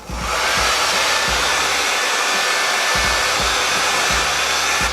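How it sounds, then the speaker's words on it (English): A blow dryer on low whirs steadily over a lace front wig, a constant airy hum starting abruptly and running without pause. "So I just take my blow dryer and put it on low"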